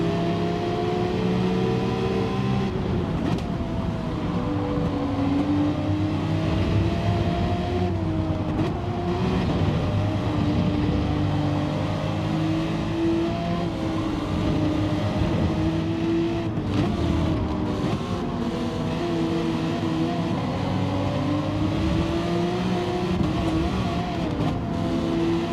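Porsche race car engine in Gran Turismo 7 during a Manufacturers Cup round at Autopolis, droning steadily throughout with rising and falling pitch as it accelerates and shifts, loud and continuous.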